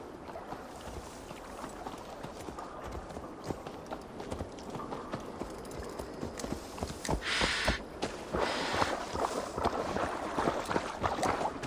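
Steady clip-clop of horse hooves in Assassin's Creed Valhalla over a continuous rushing background, with a brief louder burst of noise partway through.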